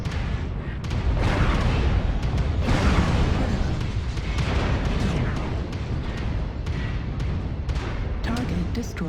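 A destroyed target mech blows up in MechWarrior Online amid a dense, sustained roar of explosions and weapon fire, loud and continuous, with a voice speaking over the din.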